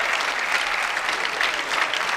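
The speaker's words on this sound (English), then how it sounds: "Listen to the crowd here." Crowd at a Montreal Open squash semi-final breaking into loud, sustained applause and cheering after a rally, a dense steady roar filling the whole moment without letup.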